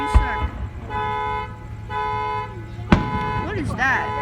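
A car horn keeps blaring in sustained tones and rising, falling warbles at a Palm Springs Fourth of July fireworks show, with two sharp firework bangs breaking through.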